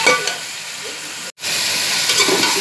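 Chicken pieces browning for a korma in a pan give a steady broadband sizzle and stir, loud and close, with one brief break midway before the frying noise resumes.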